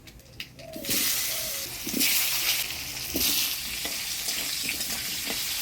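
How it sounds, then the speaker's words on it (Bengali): Potatoes fry in oil with black cumin, turmeric and salt for a Bengali fish curry, a close hissing sizzle that surges in waves as they are stirred, with a few clinks early on. "আলুটা ভাজা ভাজা করে নিলাম"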